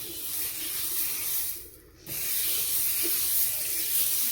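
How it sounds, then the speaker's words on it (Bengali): Butter sizzles steadily on a hot tawa griddle, a close, continuous hiss with a brief dip in the middle before it resumes, with no talking. "তাওয়া গরম হয়ে গেছে, বাটারটা দিয়ে দিচ্ছি"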